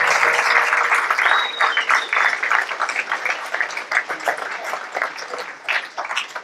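An audience at a South Chicago educators' event claps for school principals, loud dense applause at first that thins into scattered, uneven clapping toward the end.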